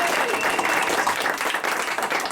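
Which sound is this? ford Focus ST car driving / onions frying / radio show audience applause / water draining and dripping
radio show audience applause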